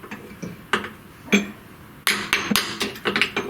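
A series of light, sharp metallic hammer taps settling metal stock flat for CNC milling, irregularly spaced, with a quicker cluster of taps toward the end; close and fairly crisp.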